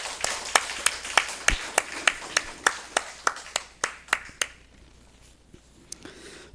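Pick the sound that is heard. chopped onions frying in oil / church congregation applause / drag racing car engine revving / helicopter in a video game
church congregation applause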